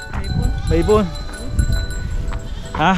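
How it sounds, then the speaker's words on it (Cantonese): Sheep or goats kept beside a hiking trail near a reservoir in Hong Kong bleat several times in wavering cries, mixed with nearby voices and outdoor background noise. "可以睇下羊，全部人養啊"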